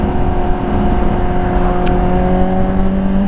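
A 2005 Honda CBR 600RR motorcycle engine running and revving, a loud continuous drone with steady harmonic tones and slight pitch shifts, close by and alone.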